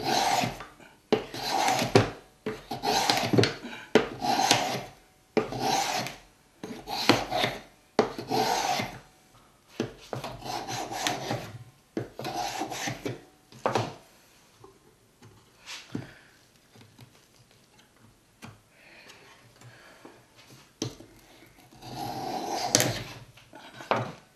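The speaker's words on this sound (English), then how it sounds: "I'm just going to take my block plane and I'm going to start shaving." A block plane shaving a wooden box part in a woodshop, with about a dozen rhythmic rasping strokes, close and loud, each pass a short scrape, then a quieter stretch of lighter handling sounds near the end.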